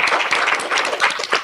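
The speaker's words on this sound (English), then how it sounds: "Round of applause for our speakers." An audience at a youth literature panel claps for the speakers in a short, brisk burst of applause, individual claps audible at close range, with no talk over it.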